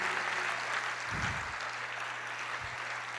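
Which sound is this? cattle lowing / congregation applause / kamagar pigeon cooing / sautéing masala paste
congregation applause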